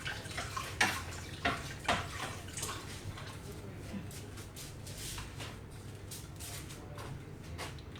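A third of a cup of water poured into eggs for a dragon fruit cake batter, with a few soft knocks and splashes at the start, then a steady trickling pour.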